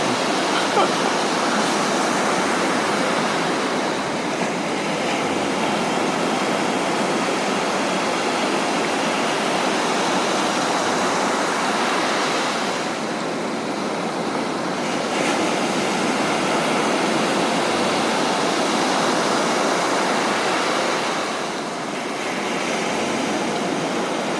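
Rain and ocean waves at Gwangalli beach in Busan blend into a loud, constant roar of surf and rainfall, swelling and easing slightly over time without any voices.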